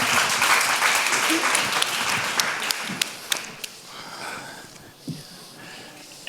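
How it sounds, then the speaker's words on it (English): An audience at a talk on universalism gives the speaker a round of applause, dense clapping that starts full and gradually thins into a few scattered claps and a sniff before fading. "Big round of applause."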